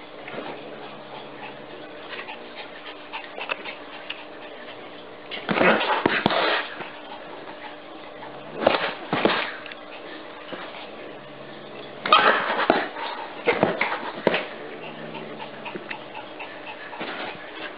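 A chihuahua pants in a quick, steady rhythm with soft whimpers, broken by several louder bursts and a person's voice now and then.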